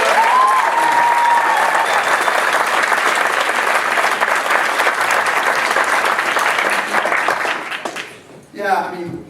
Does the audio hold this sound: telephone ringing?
no